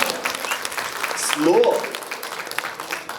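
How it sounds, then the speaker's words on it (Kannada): An audience claps at the Sukhibhava film trailer launch event: a short burst of crowd applause that rises and fades over a few seconds beneath someone speaking into a microphone. "ಇಷ್ಟೇ ಚಪ್ಪಾಳೆ ಬರಲಿ ಅಂತ."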